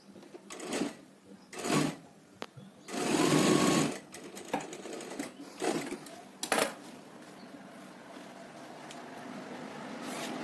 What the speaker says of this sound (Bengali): এবারে দুটো কাপড়ের উপরে একবারে ধার থেকে আরেকটা সেলাই দিয়ে নিচ্ছি